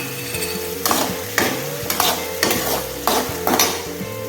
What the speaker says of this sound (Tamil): வெங்காயம் ஓரளவுக்கு வதங்கியிருக்கு இது கூடவே வெந்தயத்தை ஆட் பண்ணிக்கலாம்